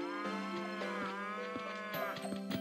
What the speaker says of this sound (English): I want to catch the cow.